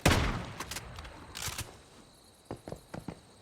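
A DB12 shotgun fired in the Once Human video game: a loud close blast at the start, further shots around the middle, then a quick run of sharp clicks and clacks like reloading near the end.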